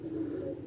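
Pigeons held in a hand give a brief, soft, low coo, close and quiet, with no voices.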